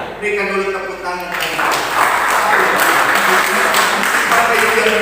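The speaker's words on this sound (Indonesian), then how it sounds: "Berikan dulu tepuk tangan." Congregation applauding during a Christian church sermon, steady broadband clapping that swells after a moment and keeps going, fairly loud and close, with some voices mixed in.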